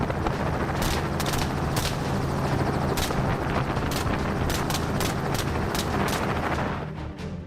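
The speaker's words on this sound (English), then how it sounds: "The pilot maneuvers the helicopter to provide the best shooting angles while ensuring safety." Sharp gunshots from a wild boar hunt crack out irregularly over the continuous whirring roar of a helicopter, close and loud throughout.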